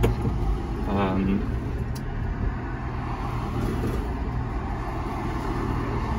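A kei truck drives along with a continuous low engine drone and road rumble from inside the cab. A short whining tone rises briefly near the start, and a person talks over the engine noise.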